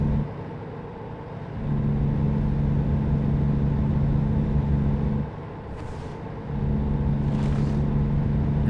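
A small truck's engine in American Truck Simulator drones steadily at a low pitch, dropping briefly and then resuming, with a couple of faint airy hisses over the continuous rumble.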